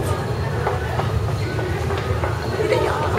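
Rumbling subway train at a station in Korea, a loud continuous roar with rhythmic rail clatter running through the whole stretch.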